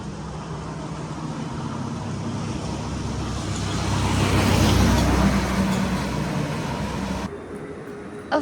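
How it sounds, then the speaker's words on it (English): A Ford car parks in a rural Chinese village, its engine and tyre rumble growing louder toward the middle and then cutting off near the end. "Ford car. I'm impressed by the parking skills."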